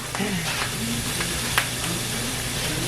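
Onions sizzle in a hot frying pan during home cooking, a steady crackle that rises right after they go in. A faint voice and some light kitchen noise sit under the frying.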